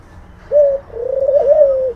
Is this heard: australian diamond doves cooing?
yes